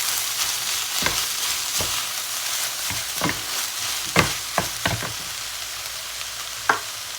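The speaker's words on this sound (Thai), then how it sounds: "เราก็จะผัดทุกคร้วให้เข้ากันนะคะ" Vegetables and konjac rice being stir-fried in a pan for fried rice with fermented pork, a constant sizzle broken by repeated sharp scraping and tossing strokes of a spatula, no voices.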